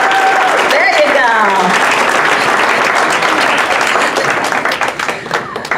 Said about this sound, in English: Thank you all for the applause.